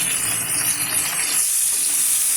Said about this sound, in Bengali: চিংড়ি মাছটা সুন্দর করে ভাজতে হবে যাতে চিংড়ি মাছের কোনো রকম কাঁচা ভাব না থাকে